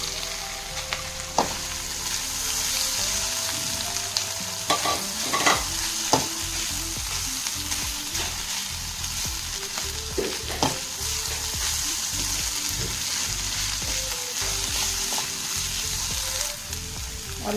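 Chicken frying in a pan, a loud, steady hiss of hot oil running throughout with scattered scrapes and knocks of a utensil, close and uninterrupted by talk.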